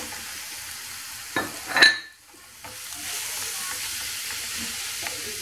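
Green zucchini tipped into a pan of frying onion: a couple of clattering stirs and a sharp burst of sizzle, a brief quiet, then a steady close frying hiss that carries on to the end, with no talk.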